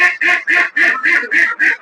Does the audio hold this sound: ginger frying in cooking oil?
no